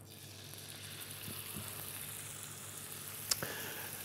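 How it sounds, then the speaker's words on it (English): A venison steak sears in a hot pan with a steady, faint sizzle and hiss throughout, plus a few soft pops and a single sharper tick near the end. "Going to sear both sides for 2 to 3 minutes."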